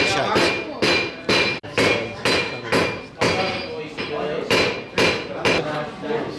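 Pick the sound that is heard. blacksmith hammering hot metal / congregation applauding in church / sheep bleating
blacksmith hammering hot metal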